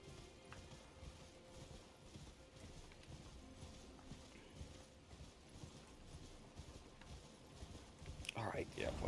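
Horse hooves clip-clop in Elden Ring, a steady quick trotting rhythm under a faint game backdrop, capped by a short whinny near the end.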